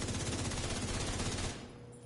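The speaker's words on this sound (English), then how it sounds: "It's shooting fast whether I'm in cover" In The Division 2, the Lexington gun fires in a rapid, dense stream of loud, close shots, then the burst cuts off and fades into quieter ambience.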